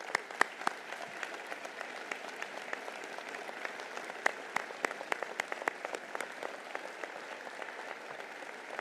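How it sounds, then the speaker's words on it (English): Applause at a university summer commencement ceremony, many hands clapping steadily at a moderate distance in a large hall, with scattered sharper claps standing out over a continuous patter throughout. "Round of applause."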